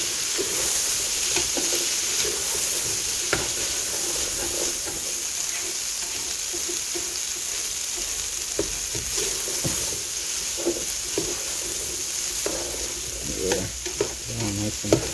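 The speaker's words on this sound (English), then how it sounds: "I'm going to stir all this niceness onto them" Diced potatoes fry in a pot for corn and shrimp chowder, hissing steadily with close, repeated scraping spoon strokes as they are stirred and coated.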